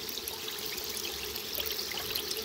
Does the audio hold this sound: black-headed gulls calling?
no